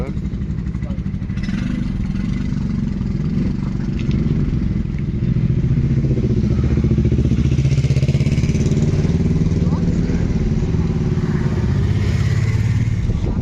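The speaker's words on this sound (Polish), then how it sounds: "Słychać motocykle w tle." Motorcycle engines drone steadily, building as they pass near Pilchowice Dam, with a continuous rumble and faint talk in the background.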